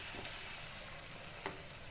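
A pan of spices and yogurt fries with an even, quiet hiss, with a couple of faint stirring taps, one near the end.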